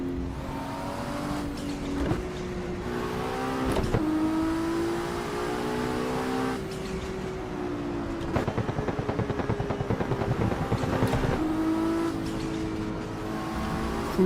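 A 1000HP+ car in the racing game Assetto Corsa revs hard, its engine note climbing and dropping through gear changes with steady harmonic whine, loud and continuous for the whole stretch with no talk over it.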